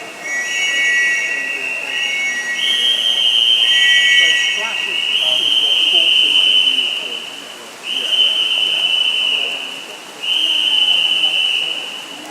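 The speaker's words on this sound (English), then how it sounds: "So here come the rest of the whistles as Lizzie Guinea comes home." Whistles sound at a masters long course swimming championship, with long piercing shrill blasts repeating over about twelve seconds above a busy pool-hall background, while an announcer talks.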